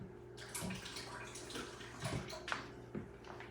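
Water drops flicked onto a very hot cast iron pan on an electric stove give off faint, scattered sputtering hisses and crackling bursts, each quick and close.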